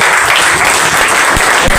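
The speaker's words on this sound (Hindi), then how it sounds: "आप अहबाब की तालियों की गूंज में आशिक हुसैन जाई साहिब।" An audience at a poetry mushaira in Bhalwal applauds poet Ashiq Hussain, a loud dense burst of clapping with a few sharper individual claps standing out near the end.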